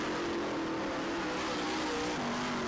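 Race cars roaring at Hagerstown Speedway on a dirt oval, a loud continuous engine drone with a steady pitch, dense and close, without talk.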